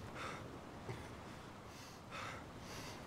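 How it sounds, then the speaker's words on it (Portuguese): Heavy breathing of a character in the survival video game DayZ, quiet rhythmic inhales and exhales repeating about once a second, faint and close, with no talk. "Minha respiração dá pra ser ouvida."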